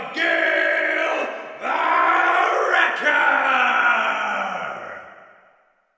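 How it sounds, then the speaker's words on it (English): Crowd roaring wildly around a tournament ring, two big swelling bursts of yelling and cheering that fade out toward the end. "Again, the crowd went wild."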